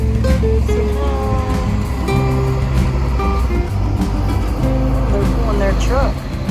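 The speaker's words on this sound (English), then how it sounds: "Oh, and here comes a big RV" A big RV drives past while leaving a resort, its engine and tire rumble steady and loud, mixed with other traffic hum, while people talk nearby.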